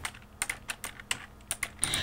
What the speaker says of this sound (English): TJ Baptie's career began at a typewriter